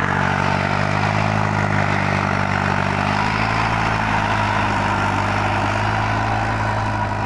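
A 48 HP tractor pulls an 8-foot double rotor rotavator in third gear in a single field pass, producing a loud, unbroken engine drone close by with no talking.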